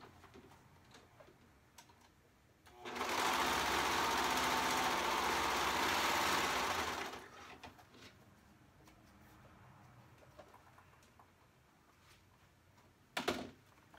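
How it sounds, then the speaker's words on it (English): A serger stitching and trimming the edge of a placemat fabric piece runs in one steady, loud mechanical burst of about four seconds, then stops, with faint handling noises and a brief click afterward. "the serger will put this nice finished edge. If you have a serger and you haven't seen it, it'll also cut it at the same time"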